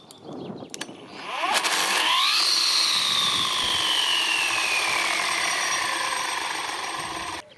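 A Parkside Performance 40V brushless cordless brushcutter fitted with a heavier 370-gram blade: after a few clicks the motor whirs up to a loud whine, then its pitch slowly sinks as it labours before cutting out.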